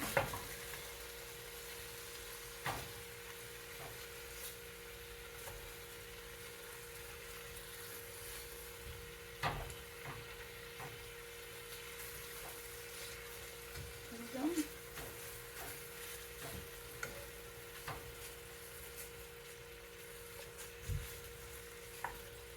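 Keto chili meat broken up and stirred in a cast iron pan, a faint low sizzle under a person talking, with scattered soft scraping taps of the spoon.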